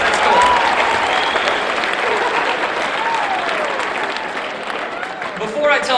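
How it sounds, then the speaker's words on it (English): An audience at a talk for teens bursts into loud applause, dense clapping with some cheering that slowly tapers while a voice speaks over it toward the end. "Give yourselves a round of applause for being a good audience."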